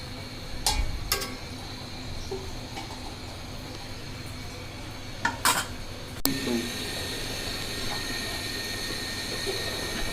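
Lid set on a cooking pot of chicken with mung dal, giving a few faint metallic clanks and clatters spread over quiet kitchen background noise.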